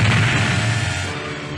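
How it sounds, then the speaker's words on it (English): Cannon on Droid World firing a warning shot, a single broad booming blast that opens loudly and decays into a rumbling tail, heard alone. "one of the Droid World cannons aimed at them and fired"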